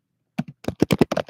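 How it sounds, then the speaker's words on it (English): Rapid typing on a computer keyboard, a quick burst of close, clattering keystrokes in fast succession after a short silence, with no voices. "typing too fast"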